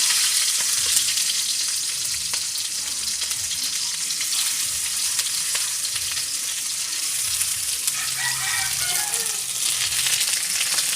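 Onions sizzle steadily in a hot pan while talbos kamote with sardines is being cooked, a dense, fairly loud crackling hiss that holds for the whole stretch, with a few scraping stirs near the end.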